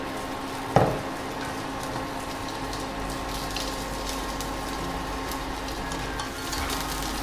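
Corn fritter batter fries in smoking hot oil, a steady bubbling sizzle with a sharp clink near the start and faint scraping touches, no voices.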